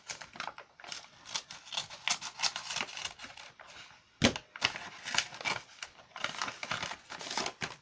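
Scissors cut open a mailed package: rapid crisp snipping and crinkling of packaging, irregular and close, with scissor cuts and rustling plastic continuing throughout.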